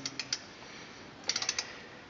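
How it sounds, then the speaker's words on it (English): A torque wrench tightens cover bolts on a John Deere 820 tractor: faint, quick ratcheting clicks come in two short bursts, three spaced clicks first and then a tighter run of five after a pause. "I'm going to go ahead and torque these bolts"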